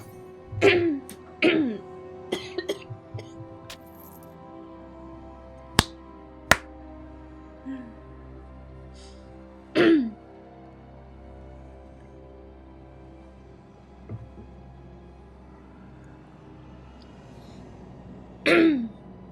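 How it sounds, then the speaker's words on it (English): A coughing fit comes in scattered bursts, several close-up coughs and throat clearings separated by quiet pauses, with a few sharp taps between them. "I had a coughing fit"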